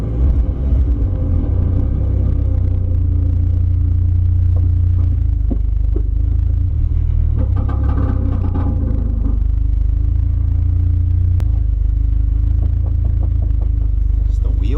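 A Project D20 car running on a blown turbo pulls away, its engine a loud, steady low rumble throughout with occasional clunks and knocks from the drive, and no talk over it.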